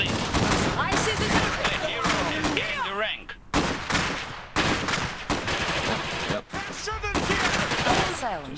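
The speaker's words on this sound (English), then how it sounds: "Shooting our own people here." Rapid bursts of automatic and rifle gunfire crackle in the video game Iron Harvest, dense volleys broken by short pauses, with a brief voice and in-game sounds mixed among the shots.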